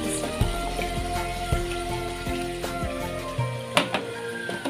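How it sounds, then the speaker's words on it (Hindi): Water poured into a pot of chana dal keema while it cooks, a steady bubbling and simmering hiss with small clinks and pops, fairly quiet and continuous, no talk. "थोड़ा सा जो है इसमें पानी जो है हम शामिल कर लेते हैं।"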